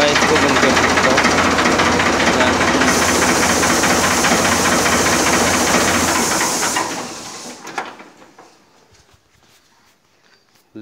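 A 1996 Ford 3600 tractor's engine runs loud and steady with a hissing, knocking rumble, then shuts off after about seven seconds, leaving only faint clatter.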